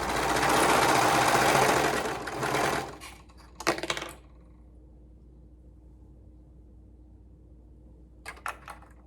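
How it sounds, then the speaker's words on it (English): A sewing machine stitches a seam in a loud rapid run of needle strokes for about three seconds, then stops, followed by a couple of brief bursts of stitching and quiet pauses. "go ahead and sew it up with a 1/2 inch seam allowance on both sides."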